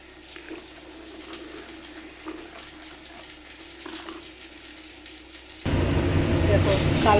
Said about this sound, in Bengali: মশলার মধ্যে দিয়ে দিলাম গরম জল